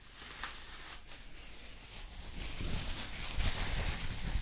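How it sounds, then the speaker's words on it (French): Bubble wrap is handled close to a binaural microphone for ASMR, giving quiet, crisp crinkles and small popping crackles that grow busier and denser toward the end, with no talking. "Papier bulle."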